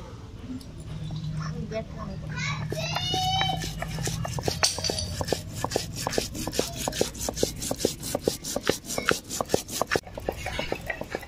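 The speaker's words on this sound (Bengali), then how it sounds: "এবার জিরেটাকে বেটে নেবো।" Cumin seeds are ground on a grinding stone, first as a smooth rubbing scrape and then as a fast, rhythmic series of sharp grinding strokes, close and fairly loud, with brief voices early on.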